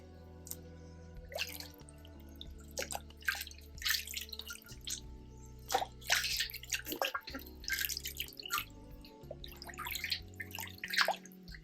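Water from a tap runs and splashes while hands are washed with handmade hot process soap, irregular trickles and drips over a quiet room hum, faint and close, with no talking.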